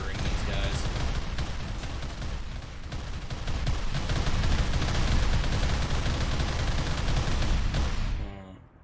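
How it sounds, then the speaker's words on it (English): Las cannons firing in the RimWorld 40k video game during a Space Marines battle, a dense, continuous barrage of rapid blasts and impacts that stays loud throughout before cutting off abruptly near the end. "our las cannons are having zero issues murdering these guys"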